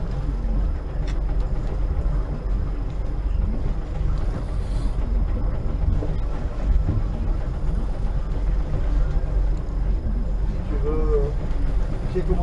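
A small fishing boat's motor runs steadily through the whole stretch, a continuous low drone with wind buffeting, and faint voices occasionally audible.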